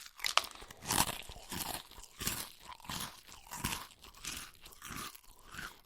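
Crunchy breakfast cereal being chewed close up, loud rhythmic crunches repeating about twice a second, with no talking over them.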